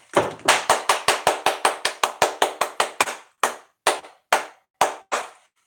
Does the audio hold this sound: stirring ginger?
no